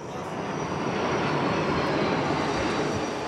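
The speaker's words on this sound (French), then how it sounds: "ils guident les pilotes et les autorisent ou non à se poser" Loud, steady jet roar of an aircraft landing on the deck of the aircraft carrier Charles de Gaulle at sea, a continuous broadband engine rush that stays close and fills the whole moment, with no talking.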